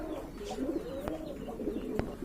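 Lahori pigeons give soft, low cooing calls, a few gentle murmuring phrases heard up close over a quiet background, with a couple of faint clicks.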